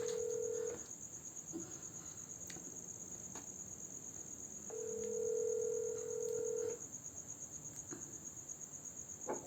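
Several electronic telephone keypad tones sound one after another, with a longer held tone midway, over a steady high insect-like chirring in the background.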